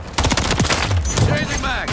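Rapid video game gunfire, loud dense bursts of shots fired in quick succession, mixed with overlapping shouted voices.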